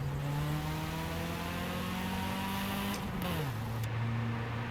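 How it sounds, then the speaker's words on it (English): Single overhead cam engine of a quirky old Toyota in Forza Horizon 5, a steady droning hum that climbs and dips between gear changes, with a brief shift near the end; no talking over it. "It sounds like it's a single overhead cam"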